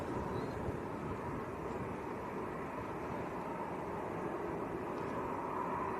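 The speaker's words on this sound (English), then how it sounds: "And behind that is the Aer Lingus" Aer Lingus Airbus A321XLR airliner passing Manchester airport, a steady, fairly distant broadband engine roar that holds constant throughout with no talk.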